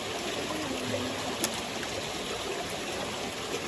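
Clear stream water flows over rocks and leaf-filled crevices, a soft, steady babble and trickle heard up close and continuously, with no voices.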